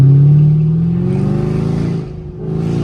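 A 2016 Camaro 2SS V8 engine revs hard from the cabin, a loud, deep throaty roar that rises in pitch and then dips briefly near the end, with no talking over it.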